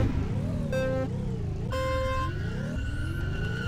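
A car engine in the 80's Overdrive retro racing game revs and sweeps up and down under the throttle, a loud steady drone broken by bright chiming electronic tones, with no talking.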